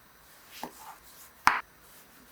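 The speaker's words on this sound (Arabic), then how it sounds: "في عندي كمية من الباذنجان بقطعها شرائح متوسطة لا رفيعة ولا سميكة بهذا الشكل" A knife cuts through eggplant on a board, giving a few soft, separate chopping thuds with one sharper cut near the middle, close and quiet, with no talk.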